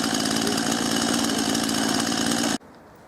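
A chainsaw runs loud and steady close by, cutting into a pile of cut wood that includes willow, with a dense mechanical roar that holds for about two and a half seconds and then cuts off abruptly, leaving only faint background.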